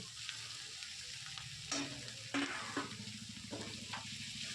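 Onions and tomatoes fry in a pan for pav bhaji, with a constant sizzle broken by a few sharper scrapes and knocks of a spoon as they are stirred.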